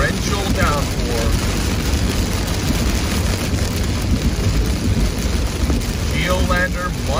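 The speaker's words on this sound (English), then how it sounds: "Downpour." Dense, heavy rain roars steadily from close by, a constant wash of noise with a low rumble beneath it.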